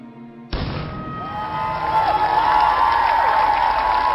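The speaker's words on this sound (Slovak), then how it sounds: "boli vyprevádzané mohutným potleskom" Thunderous applause swells from a large crowd, rising quickly after a sharp onset and holding as a dense, sustained roar of clapping.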